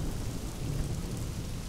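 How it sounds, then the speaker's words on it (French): A thunderstorm sends a steady wash of rain across the whole moment, with a low continuous rumble of thunder beneath it at moderate level. "Quel orage!"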